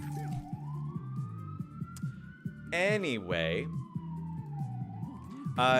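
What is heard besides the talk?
ambulance siren passing outside the window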